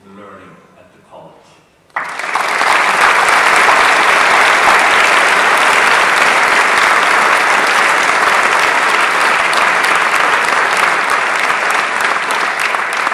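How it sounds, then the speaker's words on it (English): A graduation crowd bursts into loud, sustained applause for the faculty after a brief spoken line, the dense clapping holding steady to the end. "you would like to join me in applauding and thanking our exceptional faculty"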